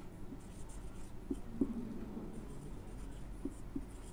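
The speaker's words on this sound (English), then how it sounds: "as you can see I am writing on the board" Marker scratching across a classroom board during a lesson, a faint dry squeak and scrape with a few brief louder strokes over a steady background hiss.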